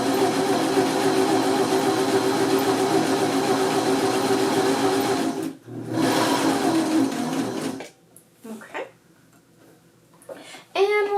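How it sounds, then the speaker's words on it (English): A home sewing machine runs steadily while stitching a buttonhole backwards through fabric, its motor humming loud and close. The run breaks off briefly, then stops, and a voice talks afterward. "It's going to sew backwards on your fabric."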